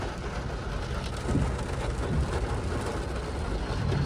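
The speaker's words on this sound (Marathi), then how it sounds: "खूप जोरात पाऊस येतोय" Heavy rain pours steadily during a road trip from Pune to Hyderabad, a dense continuous hiss with low rumble, no voices.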